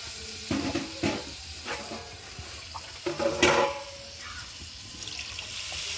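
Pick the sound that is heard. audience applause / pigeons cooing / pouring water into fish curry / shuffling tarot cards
pouring water into fish curry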